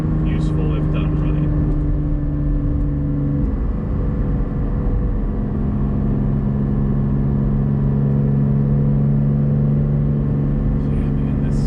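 Porsche GT4 engine and exhaust fitted with Soul Performance over-axle pipes while driving, a continuous loud drone heard from inside the car with a shift in pitch partway through.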